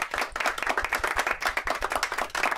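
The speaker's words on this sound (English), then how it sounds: "Let's give all the films a round of applause." Audience clapping after a screening of first-year student stop motion films at a college show, a dense, steady patter of many hands close by, with no talking.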